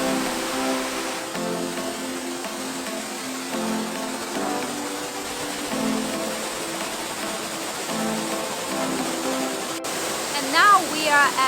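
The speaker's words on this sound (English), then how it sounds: "gorgeous waterfalls" A waterfall at Pua'aka'a State Park on the Road to Hana, Maui, roars in a steady, dense rush of falling water throughout, with a brief faint tonal chirp near the end.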